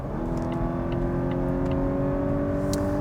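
A 2021 Volvo V90 Cross Country B5 AWD cruising at very high speed, heard from inside as a steady engine hum with tonal whine under broad road and wind rumble, continuous and even, no talking.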